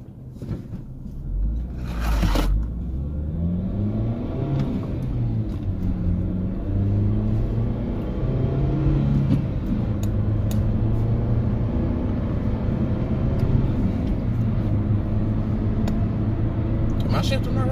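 A 2014 Nissan Juke NISMO with a manual gearbox drives along, its engine droning and climbing in pitch through several gear shifts, while people talk over the steady cabin rumble.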